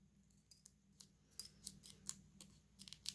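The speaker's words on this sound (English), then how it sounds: "Make sure we cut the card in half." Scissors snip through a trading card, cutting it in half with a handful of short, crisp clicks and slices at close range, quiet and with no talk.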